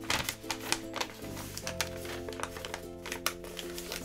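Wrapping paper gets folded and tucked around a gift, with close, crisp rustles and sharp crinkling taps in an irregular series over a faint steady hum, no talking heard.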